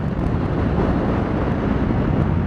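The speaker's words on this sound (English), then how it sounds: "Damn, it's windy." Strong wind buffets the microphone while riding a Yamaha MT-09 Tracer motorcycle, a steady, loud, rumbling rush with gusty bumps throughout.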